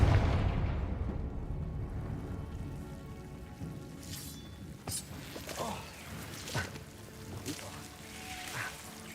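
Confringo fire spell explosion in the video game Hogwarts Legacy: a loud, broad blast at the outset fades into crackling, popping bursts and a rushing rumble that come and go over several seconds.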